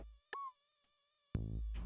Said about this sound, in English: the mosquitoes ruin everything.